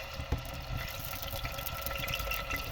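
Two medium tomatoes go into hot oil and sizzle, a continuous close hissing crackle with a sharp pop at the start, steady and without talk.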